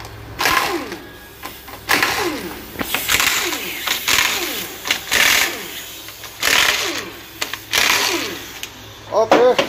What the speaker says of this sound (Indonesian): Setelah itu kita buka dulu baut 12 bagian baut pompa oli.